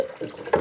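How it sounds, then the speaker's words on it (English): Cold-pressed lemon juice being poured, a short close splashing trickle of liquid that swells into a louder rush near the end. "I'm going to add 80 milliliter of the lemon juice."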